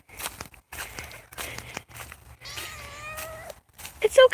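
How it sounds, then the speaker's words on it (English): A kitten meows outdoors during a walk through overgrown ground on a hot day, one drawn-out mewing call in the middle and a couple of short squeaks at the end, amid close footsteps and rustling. "It's okay, Kitty. We're almost there"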